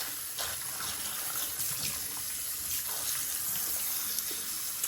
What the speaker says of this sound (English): I'm gonna make sure I rinse out this bowl and I rinse out this brush